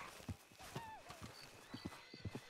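Horses in the video game RedM clip-clop at a walk, with close hoof thuds and a short whinny rising in the middle, all fairly soft.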